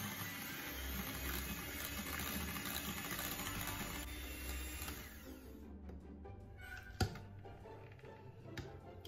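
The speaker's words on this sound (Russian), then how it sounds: "Взбиваем до загустения." An electric mixer whips cream with powdered sugar for a chocolate kefir cake, a loud, steady whirring drone that runs for about six seconds, then drops to quieter rattling with one sharp knock.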